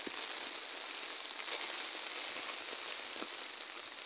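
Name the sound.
heavy rain during Cyclone Remal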